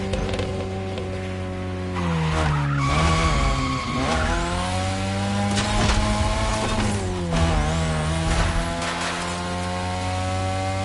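Car tires skid and squeal during a race in the video game The Crew Motorfest, over a loud, steady, whining engine drone that rises and falls in pitch.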